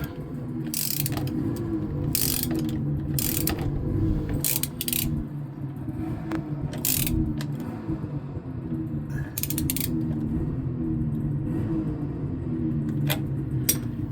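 A hand ratchet snugs up the bolts on an electric trailer jack for a race trailer, with quick repeated clicking strokes and brief pauses, close and steady over a background hum.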